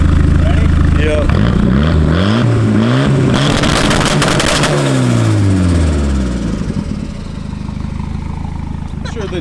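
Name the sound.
Volvo car engine revving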